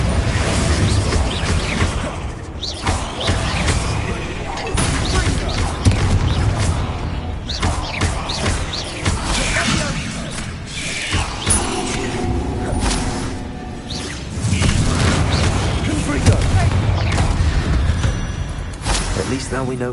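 Confringo fire spell explosions in Hogwarts Legacy: loud booming blasts and whooshes inside a tomb, repeating over a dense, continuous game soundtrack with heavy low rumble throughout.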